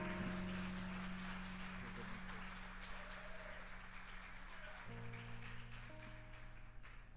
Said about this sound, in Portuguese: Só você que crê assim, aplauda o Senhor